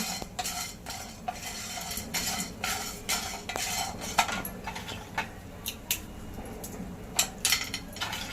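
Whole spices for Maharashtrian goda masala dry-roasting together in a pan, stirred with a metal spoon that scrapes and clinks against the pan in a steady, irregular rhythm, close and moderately quiet with no talking.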